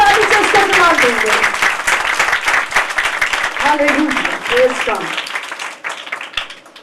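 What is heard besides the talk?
congregation applause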